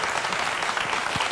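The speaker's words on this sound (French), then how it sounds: "Applaudissez." Studio audience clapping on a French television show, a dense, even burst of applause filling the whole moment, loud and close.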